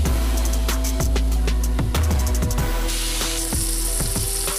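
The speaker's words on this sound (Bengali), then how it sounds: "এবার আমি আরেক পাশটা উল্টিয়ে ভেজে নেব। চিংড়ি মাছ খুব বেশি ভাজা প্রয়োজন পড়ে না।" Prawns fry in hot oil in a pan for a Bengali coconut prawn malai curry, a loud, close sizzle broken by sharp clinks and scrapes of a spatula as the pieces are turned.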